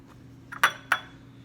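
A whisk breaks egg yolks in a bowl while making rolled eggs, two sharp clinks of metal against the bowl in quick succession, close and fairly loud over quiet background.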